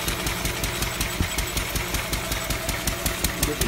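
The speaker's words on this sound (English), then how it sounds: "The engine's going well." A Lister D stationary engine runs steadily close by, its single-cylinder firing knocking out a fast, even rhythm with a belt-driven clatter, heard alone without talk.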